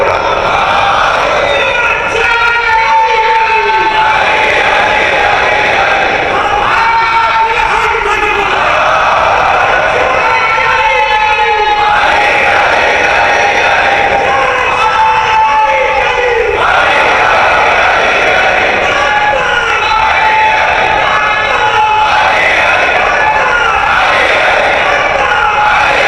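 A large crowd at a Muharram majlis chants religious slogans in loud, rhythmic bursts, with each chant swelling and fading at a regular pace of roughly every few seconds, dense and close throughout.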